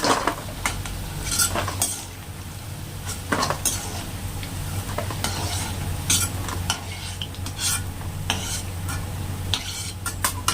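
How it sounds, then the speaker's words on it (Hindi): Fried soya chunks are scooped out of a pan of hot oil, with steady sizzling beneath repeated scraping and clinking of a utensil against the metal, close and moderately quiet. "इस तरह से करके सारी बड़ियों को हम निकाल लेते हैं।"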